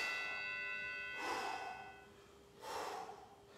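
Two hard, breathy exhalations from someone doing bicycle crunches during a hockey training workout, close and spaced about a second and a half apart, over a faint steady background tone.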